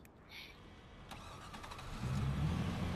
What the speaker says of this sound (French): J'arrive en bateau.